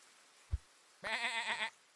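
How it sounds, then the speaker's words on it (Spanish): Sheep bleating in the game Super Auto Pets: a short thump, then one wavering bleat lasting about a second, fairly clear over a quiet background. "Ovejas."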